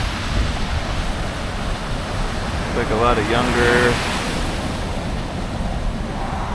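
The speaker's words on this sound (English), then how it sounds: "made it down to the ocean here, found a good spot to watch some surfers" Ocean waves break at a surf spot in Maui, a constant loud roar of surf mixed with wind buffeting the microphone, while someone speaks briefly over it.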